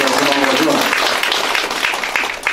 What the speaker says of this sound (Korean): 여러분 박수 한번 해주시죠.